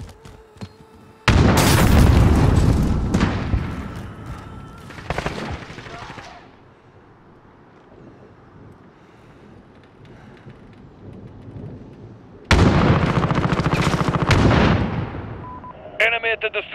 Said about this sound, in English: Some people run away from the sound of gunfire.